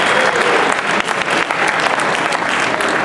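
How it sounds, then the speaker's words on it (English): Loud, dense applause from an audience honoring a boxer at a press gathering, a continuous burst of many hands clapping close by with little else audible. "let's give the Mexican Russian a big round of applause."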